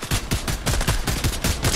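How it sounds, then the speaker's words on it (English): Rapid bursts of gunfire from the Fortnite video game, loud and close, with repeated broadband shots in quick clusters filling the whole clip and no talking. "Why are they shooting this way?"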